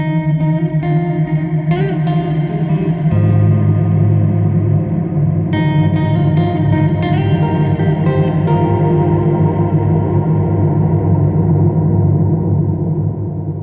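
Electric guitar notes wash through a shimmering, modulated reverb from a UAFX reverb pedal, chords blooming and swirling into a long, wavering tail.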